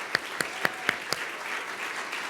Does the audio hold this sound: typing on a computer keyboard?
no